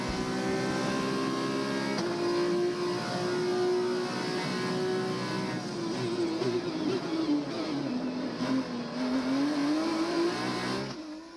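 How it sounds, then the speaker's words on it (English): A race car engine in an F2/F1 racing video game drones steadily with a strong harmonic whine, pitch holding, then dipping and climbing again as it revs; no talking. "Listen to the car."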